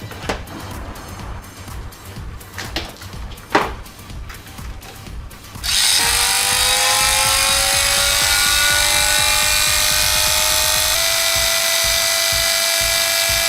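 A washing machine motor kicks on partway through, a loud steady whine with rising pitch over a crackling buzz that fills the rest of the clip after a quieter start.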